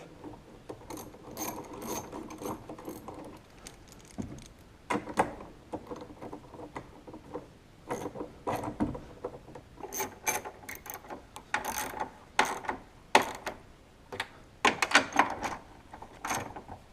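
Ratcheting on mirror mounting nuts during a mirror install on a 2004 Ford F250, heard as bursts of quick clicking pawl strokes with short pauses between runs, close and fairly loud, with metallic taps and handling noise and no talking.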